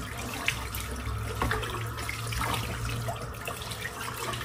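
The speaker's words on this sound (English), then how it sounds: "I'm just going to rinse the brush out now while the water's running" A tap runs steadily while a shaving brush is rinsed beneath it, giving a continuous splashing hiss with a low rumble and small irregular spatters, close by and moderately loud.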